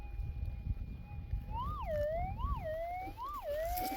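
Metal detector screaming over a gold target: a steady high electronic tone that swoops up and down in repeated wailing sweeps, siren-like, loud over low outdoor rumble.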